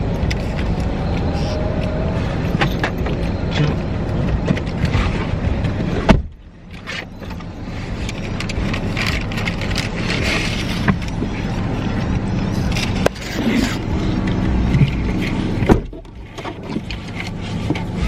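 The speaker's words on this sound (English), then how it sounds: "I'm about to start driving" A car travels along the road during a long Texas-to-Maryland road trip, with a steady interior rumble of engine and road noise, a couple of brief knocks and shifts, and some talking inside the cabin.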